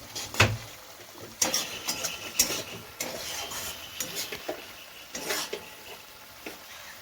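Pointed gourd (potol) frying crisp in a pan, with a low steady sizzle and scattered scrapes and clatters of a utensil stirring, close by and moderate in level.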